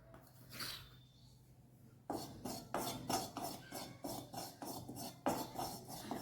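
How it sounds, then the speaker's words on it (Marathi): Rice flour scraping and rasping against a kadhai as it is dry-roasted and stirred over a low flame, a quiet start giving way to a steady run of close, rhythmic scratchy strokes. "चला तर मग आता आपण तांदळाचं पीठ अगोदर भाजून घेऊया"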